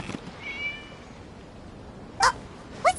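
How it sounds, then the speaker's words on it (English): Two short cat meows in the video game Genshin Impact, sharp and fairly close, arrive near the end after a quiet stretch with a faint high whistle-like tone earlier. "It was just a cat."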